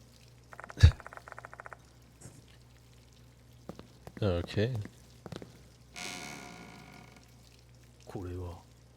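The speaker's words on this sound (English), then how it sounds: "Oh, the sound of running water." Water runs in the horror game Spirit Hunter Death Mark 2 as a short, soft pouring rush amid scattered thuds and other game sounds, with a brief spoken word.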